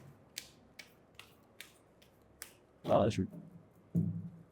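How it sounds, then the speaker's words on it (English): Several crisp card snaps and riffles in a quick series, followed by a couple of louder bursts of someone talking nearby. "I will shuffle the cards one final time for you guys"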